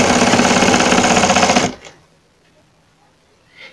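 A sewing machine stitches along the buckram edge of a blouse piece in a fast, even rattling run for about a second and a half, then stops, leaving near silence with a faint knock afterward.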